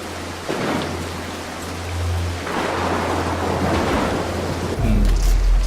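Heavy thunder and rain in the stealth game Mark of the Ninja: loud, deep rolling rumbles swell and fade over a constant hiss of downpour, with a fresh booming crack near the end.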